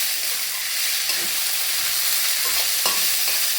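Raw rice frying with turmeric in a pan for lentil khichuri sizzles loudly and continuously, with faint stirring clinks scattered through it and no voices.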